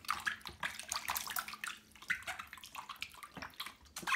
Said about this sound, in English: get this bar of soap, drop it into the water and try and create a lather